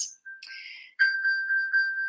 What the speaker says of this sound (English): Someone's phone's going off in here now.